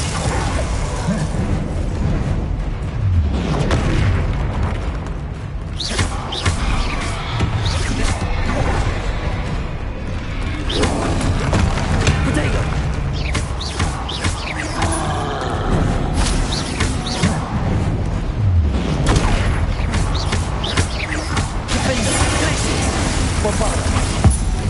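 Repeated spell explosions and magical bursts from combat in Hogwarts Legacy, loud and dense over a continuous rumbling game soundtrack, with a voice talking over much of it.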